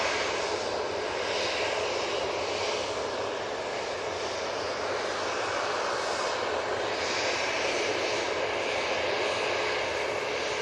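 A TUI jet departs Manchester Airport with a continuous engine roar that holds even and strong throughout, slightly distant, with no talking.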